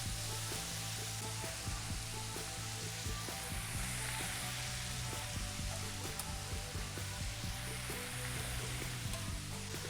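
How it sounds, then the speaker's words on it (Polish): Chicken fillet sizzles and crackles steadily in a hot frying pan, a dense continuous hiss with small pops throughout. "ale pięknie skwierczy."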